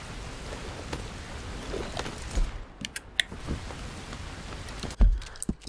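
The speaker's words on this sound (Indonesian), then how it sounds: "Ini hujan ya." Steady rain falls in the open world of Red Dead Redemption 2, a soft, even hiss throughout, with a few sharp clicks and a louder low thump near the end.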